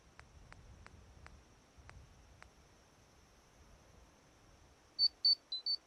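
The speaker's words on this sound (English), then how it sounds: "Oh, there goes my phone." A mobile phone goes off with four short, bright electronic beeps at the very end, near and clear after several seconds of near silence broken only by faint clicks.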